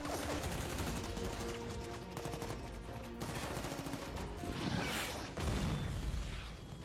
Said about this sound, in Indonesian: sebuah RPG tiba-tiba ditembakkan oleh anak buah Reyes. Terjadilah sebuah pertempuran